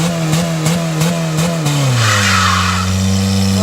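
A modified Death Race 2 car's engine revs in rapid pulses, then drops to a lower steady roar as it is slammed from reverse into gear; loud and close, with no talking.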